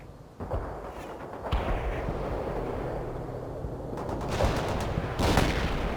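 A mortar barrage in a war video game, with booming impacts and rumbling blasts that roll on continuously and swell in bursts, loud and alone without voices.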